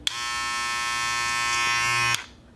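A Wahl 1919 electric hair clipper buzzes steadily for about two seconds, a close, even motor hum that cuts off abruptly.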